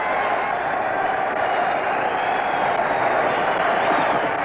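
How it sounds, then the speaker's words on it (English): A boxing crowd at a Dempsey–Willard fight rises to its feet, a dense, steady roar of cheering and clamour that swells slightly and carries on without a break. "The crowd surges to its feet."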